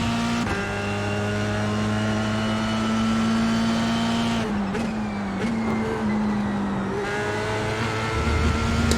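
Race car engines roar in an iRacing sim race at Road America, a steady loud drone that shifts pitch with gear changes and a brief dip mid-way, with other cars buzzing nearby.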